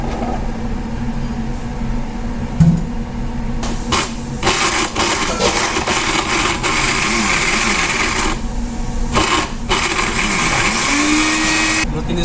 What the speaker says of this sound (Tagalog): I-blender na natin yung pangsahog natin ngayon sa kimchi natin.